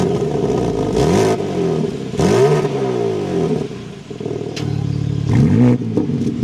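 Up close, a new 2026 BMW M4 Competition engine fires up and delivers several sharp revs that swell and fall away, with a burbling idle in between and a final double blip, no talking.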